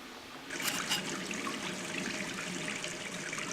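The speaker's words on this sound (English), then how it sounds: "Flush toilet." A toilet flush in the Gone Home video game gives a faint, steady rush of trickling water that carries on without a break, with no talking.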